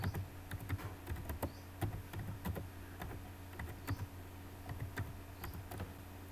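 Someone typing on a computer keyboard while writing in Microsoft Word, with close, irregular bursts of crisp key clicks and short pauses between runs, heard on its own.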